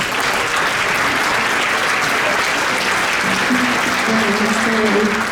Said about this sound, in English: Join me in giving her another round of applause